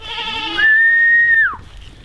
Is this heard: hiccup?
no